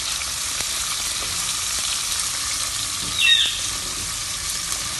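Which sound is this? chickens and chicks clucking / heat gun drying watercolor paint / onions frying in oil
onions frying in oil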